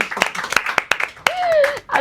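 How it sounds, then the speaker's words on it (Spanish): Scattered sharp claps from a small group applauding Janet burst out over and between ongoing talk, with a brief whistle-like tone rising partway through. "hay que aplaudir y felicitar a Janet"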